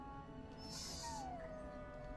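A warhound in the fantasy game Dragon Age: Origins lets out a single soft, rising-then-falling whimper. The whine is faint and sits over a steady low background hum.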